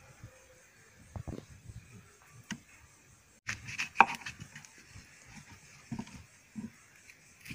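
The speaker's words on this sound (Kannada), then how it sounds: "ಮಾವಿನಕಾಯಿ ಕಟ್ ಮಾಡ್ತಾ ಇದ್ದೇನೆ." A knife cuts raw mango into small pieces for pickle, producing quiet, irregular knocks against a board with a denser, louder cluster of cuts partway through.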